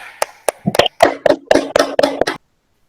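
A few people clap for a student in a classroom, giving about a dozen close, sharp hand claps in an uneven rhythm that stop abruptly, with no talking.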